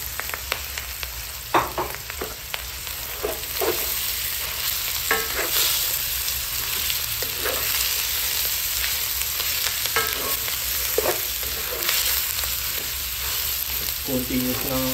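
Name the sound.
ground pork frying and being stirred in a pan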